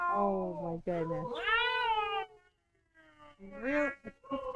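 A cat meows loudly and repeatedly near the microphone, long drawn-out rising and falling cries with a short pause before another, in a home with a dog around.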